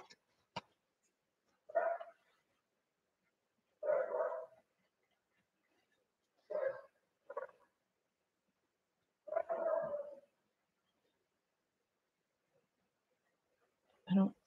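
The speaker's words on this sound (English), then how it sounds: "they're barking again" Dogs bark in short, separate bursts of one or two yaps, spaced several seconds apart against near silence, clear and fairly close.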